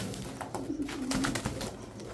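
Pigeons coo softly in a pigeon sale setting, low rounded calls repeating over a faint background hiss, with no talking.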